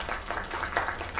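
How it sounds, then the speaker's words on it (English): Crowd applause from an in-game audience after a singing performance in a PC video game, a steady wash of clapping sustained throughout at moderate loudness. "Another round of applause."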